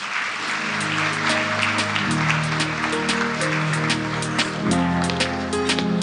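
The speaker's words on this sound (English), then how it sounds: "Round of applause, ladies and gentlemen." A hall full of people applauds at an awards ceremony after a speech. The clapping is steady and sustained, with sharp individual claps over a layer of music that has sustained tones.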